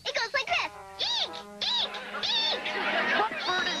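Cartoon character imitating a bird call with a voice, a series of high, squeaky, rising-and-falling shrieks repeated in quick succession, loud and close, with other cartoon voices around it.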